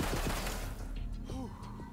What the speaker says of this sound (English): Full auto sniper rifle, of course.